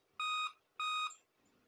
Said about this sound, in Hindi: ये बीप साउंड आ रही है इसमें रेगुलर।